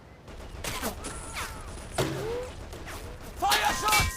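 Gunfire crackles in a Men of War battle on the road to Tunis, with bursts of shots and impacts at irregular intervals, the loudest volley near the end, over a constant background rumble with shouted voices mixed in.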